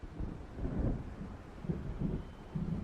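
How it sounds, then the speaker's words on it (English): Low rumbling thunder from an approaching storm in the Alan Wake video game, heard as several soft rolling swells over a steady windy, rainy bed, fairly faint and distant, with no talk. "It seems there's a storm coming."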